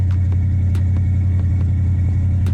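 An old Ford Bronco truck engine idling loudly and steadily after a cold start, with a deep, uneven low rumble and faint ticking.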